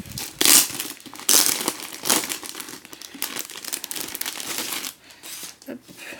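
Paper and plastic wrapping crinkle and tear as an Owlcrate book box is opened, loud rustling bursts and crumpling close to the microphone, with no clear talking.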